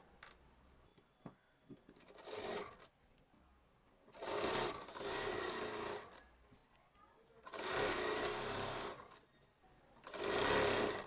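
Sewing machine stitching the panels of an Anarkali kurti, running in four separate loud bursts of rapid whirring with brief quiet pauses between them and no talk.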